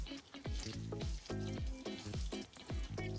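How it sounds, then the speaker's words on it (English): Ground chicken with ginger, green onion and sugar cooking in a pan over low heat, a faint steady sizzle broken by rhythmic scraping stirs about every half second. "I simmer it for 5 minutes over low heat."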